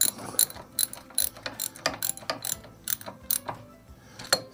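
Ratchet wrench snugging a fastener on a GC2300 steering cylinder, a run of quick metallic clicks in short bursts, close and fairly loud, with no talking.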